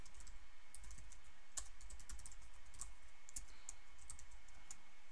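Steady, fast typing on a computer keyboard: dense, crisp key clicks in an even run, close and alone with no talk.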